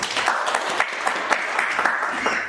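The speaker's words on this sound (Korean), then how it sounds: "박수로 맞이해 주시기 바랍니다" Audience at the 2020 Dongseongro revitalization forum in Jung-gu, Daegu, applauding to welcome a speaker, steady dense clapping from many hands sustained throughout.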